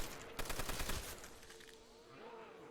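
A Browning machine gun fires a rapid burst in Call of Duty: World at War Zombies, close and loud shots in quick succession that give way to a lingering echo.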